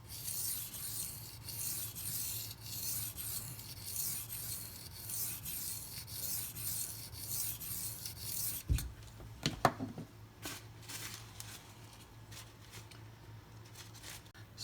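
A Benchmade Mini Crooked River knife blade scrapes in repeated rhythmic strokes against a sharpening surface, a soft raspy rubbing that gives way to a few sharper clicks and fainter strokes near the end.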